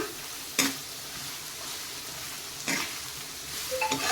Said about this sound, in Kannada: ಈಗ ಬೀನ್ಸ್ ಹಾಕ್ತಾ ಇದ್ದೀನಿ ನೋಡಿ ಹುರುಳಿಕಾಯಿ